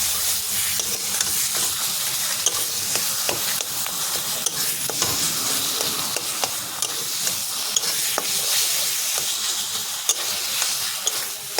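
Taro leaves (kochu shak) being turned in a hot pan with garam masala, a dense continuous sizzle and scraping with frequent small clicks of the spatula, steady and close.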